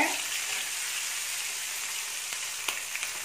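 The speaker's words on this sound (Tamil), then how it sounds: "இது மாதிரி வறுத்து எடுத்துக்கோங்க." River fish fry in a pan on a medium flame, giving a bright, continuous close sizzle with a few small spits and crackles and no talking.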